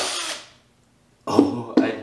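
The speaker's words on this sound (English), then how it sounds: "I'm gonna go ahead and drill some 1/8 inch or 3 millimeter pilot holes" A power drill bores small 1/8-inch pilot holes into a piece of wood in two short close bursts after a brief loud sound and a pause.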